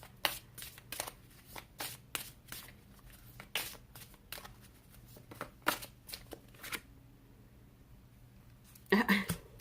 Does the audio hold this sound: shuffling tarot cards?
yes